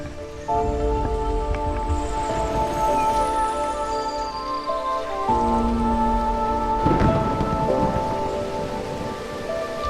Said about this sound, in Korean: 폭풍우 치는 날이었죠.